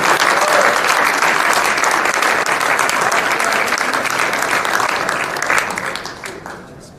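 Sustained audience applause at a Lone Star Conference baseball championship banquet for Lubbock Christian senior Brevin McCool, the Academic Player of the Year; dense steady clapping from a large room that tapers off toward the end.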